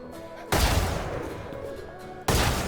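Gunfire in the Valorant shooter game: two loud, sharp bursts stand out, the first lasting well over a second and a second beginning near the end. Each one cuts in abruptly, and there is no talking.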